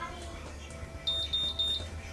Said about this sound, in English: now it's beeping, these single beeps